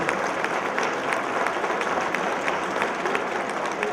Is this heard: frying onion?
no